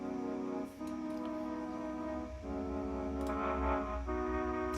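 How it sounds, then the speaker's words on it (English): A Mellotron flute plays sustained, breathy tones that move between a few held notes, each change marked by a brief dip, with faint clicks scattered through. "most recognisable sounds is the Meletron Flute"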